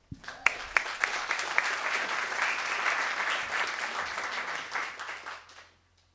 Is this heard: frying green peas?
no